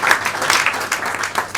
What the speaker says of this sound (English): Please let's give it a round of applause.